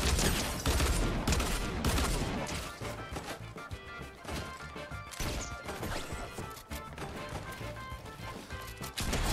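Rapid bursts of gunfire from a Fortnite ranked match crackle loudly and almost without pause, crashing impacts piling up in dense, chaotic volleys throughout.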